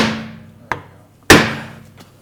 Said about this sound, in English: I'm going to hit right on the end of the rim here